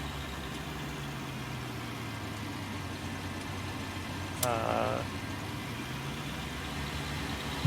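A tractor engine idles at a low, steady drone in Farming Simulator, audible throughout at moderate level, with a brief burst of a higher whirring sound partway through and a single spoken word.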